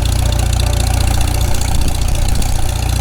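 A Farmall Super M tractor engine runs steadily in fourth gear with a freshly installed clutch, its loud, close, even chugging throbbing without a break and with no voices.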